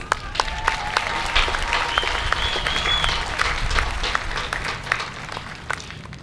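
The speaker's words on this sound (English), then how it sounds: "Let's celebrate these esteemed students with a round of applause." Audience at a city graduation honors ceremony applauds the graduating students, a dense, sustained round of clapping with a few sharper nearby claps and faint voices mixed in.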